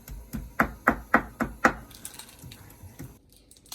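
A knife finely chopping onions and tomatoes on a board, with five or six crisp, evenly spaced chops up close, followed by softer scraping and lighter taps as the pieces are gathered.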